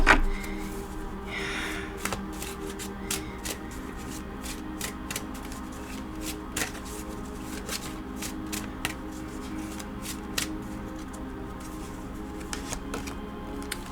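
Tarot cards handled and shuffled close up, a run of rapid light riffling and tapping clicks with brief pauses throughout, steady and moderately quiet with no talking.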